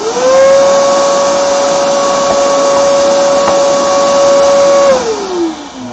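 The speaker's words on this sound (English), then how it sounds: "Pardon the noise of ye old shop vac." A shop vacuum drones loudly with a steady high-pitched whine, then winds down as the motor shuts off near the end.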